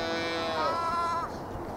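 A sheep bleats once, a drawn-out wavering call heard over steady outdoor background noise at a sheepdog demonstration, with no talk in between.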